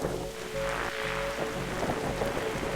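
Steady rain falls in The Darkside Detective, a constant hiss of drops on surfaces with a low rumble underneath and a faint tonal hum.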